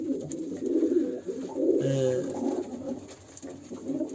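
A female tumbler pigeon, bred for 32 tumbles, coos softly nearby in a low, throaty rolling call, with one fuller coo around the middle over quiet background noise.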